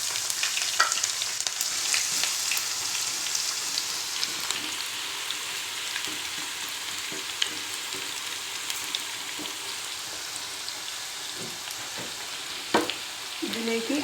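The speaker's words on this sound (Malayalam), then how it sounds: "ഇതിലേക്ക് സവാള കുറേശ്ശെ വറുത്ത് കോരി എടുക്കാം." Onions deep-fry in batches in hot oil for mutton biryani, a continuous crackling sizzle like rain on a surface, with occasional scrapes and clinks of stirring and a brief sharper clatter near the end.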